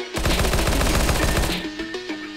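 Rapid automatic fire from a P90 submachine gun in a competitive video game match, with a loud, close, steady burst of evenly spaced shots lasting over a second, then a few scattered shots trailing off.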